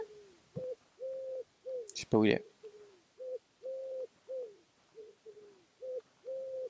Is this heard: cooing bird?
yes